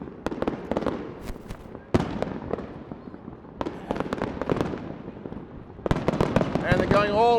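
Fireworks burst over a city at night in rapid loud volleys of sharp cracks and crackling, some crackles trailing off in whistling fizz, near and continuous.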